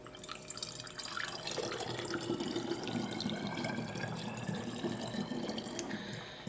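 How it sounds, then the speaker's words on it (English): Oil poured through a funnel into a bottle of garlic cloves for preserving, a steady trickling, gurgling fill that runs continuously after a brief quiet start, fairly faint and close. "We are going to fill up this bottle with oil."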